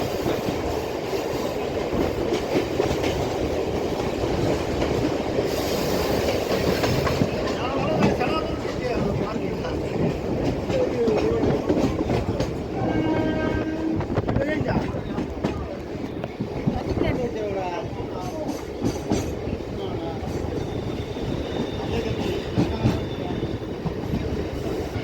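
An electric suburban passenger train on the Beach to Velachery line rolls into a Chennai station, with a continuous rumble, rhythmic clickety-clack and faint wheel squeal. Someone talks over it at times.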